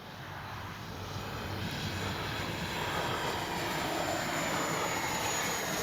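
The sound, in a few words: Flyfans Baltic Bees 64mm L-39 RC jet flying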